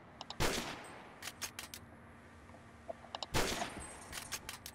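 Gunfire in the online shooter Phantom Forces: two heavy bursts of automatic fire separated by quick clusters of sharper single shots, fairly quiet and distant in the game mix.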